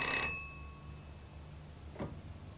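A signal box telephone bell on the Keighley and Worth Valley Railway gives a bright metallic ring at the start that rings on and fades. A second fainter ring follows about two seconds later, with no voices.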